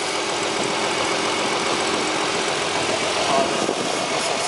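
A Nissan 380RS engine idles with a steady, even hum and a faint vibration, holding at the same level throughout.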